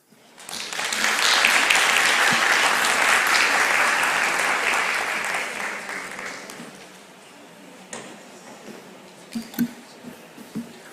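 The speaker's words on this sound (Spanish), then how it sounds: "Recibimos al doctor Álvaro Jiménez con un fuerte aplauso." A university lecture audience breaks into loud, sustained applause to welcome a speaker at a suicide-prevention conference, swelling quickly and then thinning out to a few scattered claps and small knocks.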